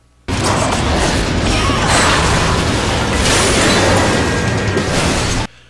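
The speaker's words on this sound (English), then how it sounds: "she can leave them alive and unleash a brand new sort of blood boil attack that causes her enemies to explode from the inside out" A blood boil attack from the game Bloodrayne Betrayal makes enemies explode from the inside, heard as a loud, dense wall of bursting, crunching impacts and mechanical clatter that holds steady for about five seconds and then cuts off abruptly.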